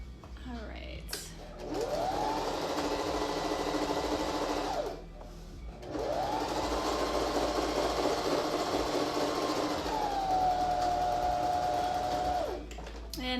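A home sewing machine stitches a cloth face mask in bursts, its whirring motor running steadily for several seconds, pausing briefly, then resuming with a rising and falling pitch as the seam is back stitched.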